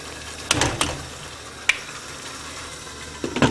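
A Quorn curry cooking in a covered pan gives a steady soft sizzle with a few sharp clicks and scrapes.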